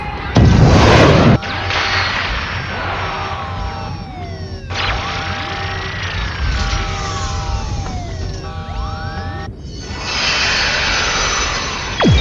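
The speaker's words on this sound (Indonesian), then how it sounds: "Sebuah pesawat hitam asing telah muncul menyerang raksasa pengacau itu." Sci-fi effects from the Ultraman Nexus TV series as a strange black aircraft appears and attacks: loud whooshing jet roars, descending and rising laser-like sweeps and bursts over dramatic music, no talk.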